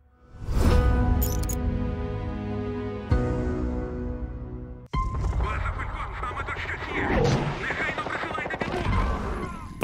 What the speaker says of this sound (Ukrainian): Стріляли в когось точно.